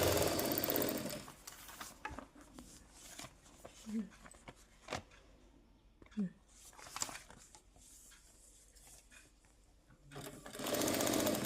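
A sewing machine stitching the corners of a piece of cloth whirs in quick mechanical bursts at the start and end, with quiet stretches between where a person speaks and handles the fabric.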